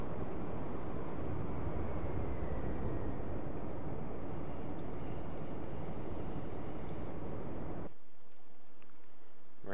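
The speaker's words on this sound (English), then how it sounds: "We've got another HST train passing us right there." A High Speed Train (HST) passing in the Train Simulator 2014 game on the East Coast Main Line between London and Peterborough: a loud, sustained broadband rail roar that rumbles on for about eight seconds, then cuts to quieter cab noise, with no talk.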